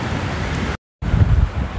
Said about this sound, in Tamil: காற்று கடுமையாக அடிக்குது